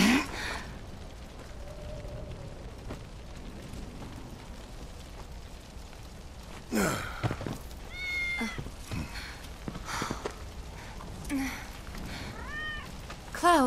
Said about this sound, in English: Good kitty.